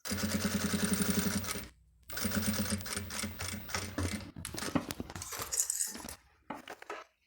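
Sewing machine stitching bias binding onto clear plastic for a transparent-window cosmetic case, a loud rapid mechanical rattle in bursts separated by short pauses, with clicks and handling noises between runs.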